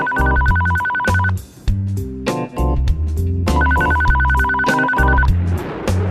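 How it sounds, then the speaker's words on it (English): A telephone rings in a home in repeated electronic bursts, loud and close, with short gaps between the rings and no talking. "the phone rang"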